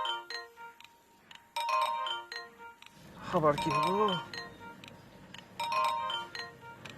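A phone rings with an incoming call, its melodic ringtone repeating through most of the clip, while a person speaks briefly over it midway.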